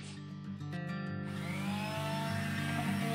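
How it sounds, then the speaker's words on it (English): A steady whining power sander grinds on a surfboard continuously, starting slightly quieter then settling into a loud, even drone with a rough abrasive edge. "So now we need to sand this baby down."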